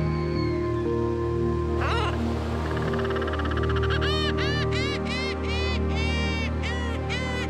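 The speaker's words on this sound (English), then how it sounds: "Frigate birds, seagulls, and gannets, like so many other seabirds, found their food in the sea" Seabirds such as frigate birds, gulls and gannets call over a barren volcanic island, a run of repeated harsh, rising cries from the middle onward above a steady droning background.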